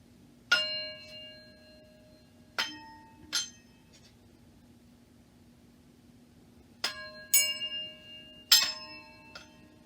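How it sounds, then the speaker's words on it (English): Metal spoons hung on yarn ring out with bright clangs as a ruler strikes them, in separate hits and quick clusters, each leaving a short metallic ring against quiet. "by using a ruler to vibrate the spoons, will we have sound?"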